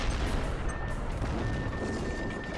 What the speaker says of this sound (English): You can also launch missiles one at a time